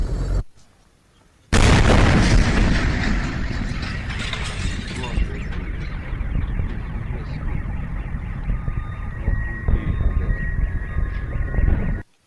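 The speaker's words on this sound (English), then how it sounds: "those sounds, those explosions were the meteor exploding" After a brief silence, a meteor explodes in the atmosphere with a huge booming blast, followed by a long rumbling roar with crackling and rattling that slowly fades out.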